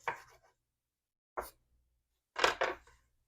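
A knife cubes chorizo on a cutting board with a few sharp, close chops spaced apart, the last two coming in quick succession, with no talking.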